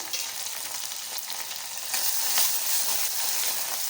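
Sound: turmeric added to a sizzling ghee tempering

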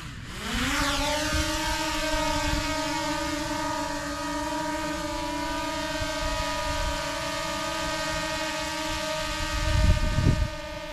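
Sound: DJI Mavic Air drone taking off

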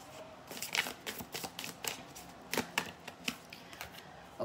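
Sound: shuffling tarot cards

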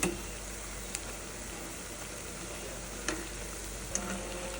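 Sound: pui shak (Malabar spinach) pakoras frying in oil

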